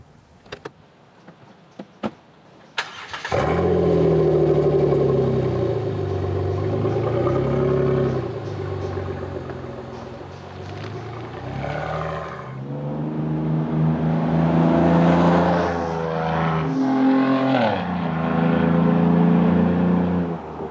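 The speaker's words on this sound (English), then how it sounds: "what a difference this Outlaw axle-back system made in sound" A 2007-11 Jeep Wrangler JK with the 3.8L engine and a Flowmaster Outlaw axle-back exhaust barks to life after a few clicks, then settles into a loud, deep idle that swells into several throaty revs before easing back.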